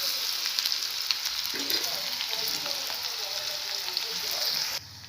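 Coriander and red chili powder stirred into hot oil with onion, a steady close sizzle of frying with faint scraping from stirring, dropping off abruptly at the end.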